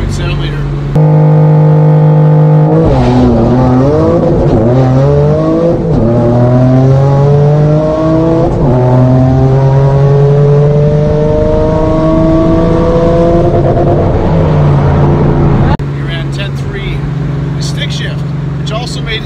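A stock-longblock 3.7 liter Ford Mustang V6 with an MT82 manual transmission revs hard through a quarter-mile drag run, its engine note climbing through successive gears loudly and continuously before easing off.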